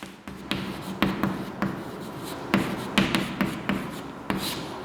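Chalk or marker strokes on a classroom board as a teacher writes out Mauryan dates, a run of sharp taps and scratchy scrawls in irregular bursts, close and fairly clear with no talking.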